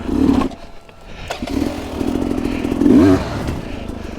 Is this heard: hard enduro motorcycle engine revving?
yes